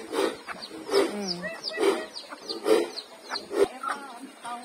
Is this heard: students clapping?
no